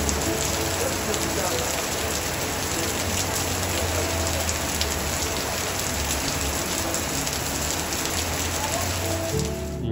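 Heavy rain pours in Rwanda, a dense, loud, continuous hiss of drops drumming on surfaces for the whole stretch, steady and unbroken, with no voices.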